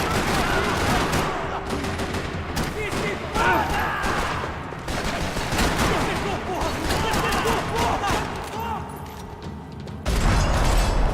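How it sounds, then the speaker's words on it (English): Dense, sustained gunfire rattles through a parking lot in Max Payne 3, with rapid bursts and booming shots layered over game effects, loud and continuous, with a brief shift in tone near the end. "Another parking lot rattling with gunfire."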